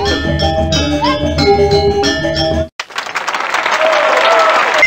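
A crowd at a show in the 1996 PC game Interactive Math Journey bursts into loud, sustained applause right after a short musical passage ends.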